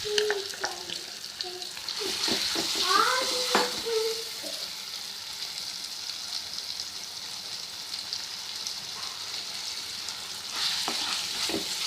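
Marinated chicken tikka sautéing in a pan, a soft steady sizzle with scraping stir strokes and a few clinks near the start and end.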